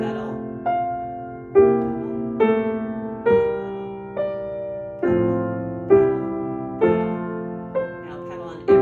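Solo piano playing Schumann's Träumerei, with the sustain pedal changed on every eighth note of the left hand's lower voice; a slow, legato melody over rolling bass notes, each new attack swelling then decaying, close and clear with no talking.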